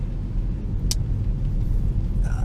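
Constant low rumbling road and wind noise inside a moving Ford Focus SW ST Line, broad and steady, with a brief faint squeak partway through.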